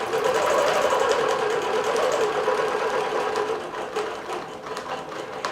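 Computerized quilting machine stitching a quilt, a steady rapid mechanical whir and needle tapping, loud and continuous throughout, easing slightly toward the end.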